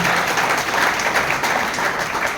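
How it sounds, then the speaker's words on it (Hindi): Audience applause at a Constitution Day celebration welcoming the district judge; steady, dense clapping from a sizeable hall crowd, loud and continuous throughout. "एक बार जोरदार ताली के साथ आपका स्वागत करते हैं।"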